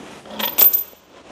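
Metal bolts tipped out of a container onto a hard surface, a quick jangling clatter of several pieces landing close by, peaking in the middle and fading to quiet.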